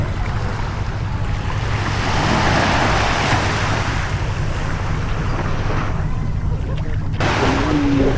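Ocean waves roll and wash continuously nearby, mixed with gusty wind rumbling across the microphone, with no voices.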